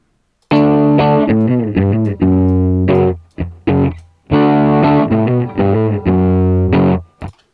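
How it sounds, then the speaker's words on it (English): Heavily distorted electric guitar chords from a distortion effect in Reason 7.1 software ring out loud and saturated, played in bursts with short pauses between phrases. "Just listen to this distortion, which is actually pretty good."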